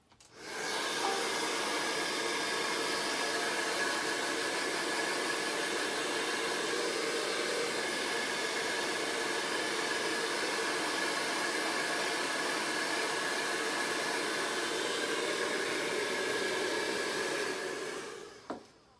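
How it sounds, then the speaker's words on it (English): A blow dryer runs continuously at close range, a steady loud whoosh of air that starts abruptly and cuts off near the end. "we're going to hit this with a blow dryer"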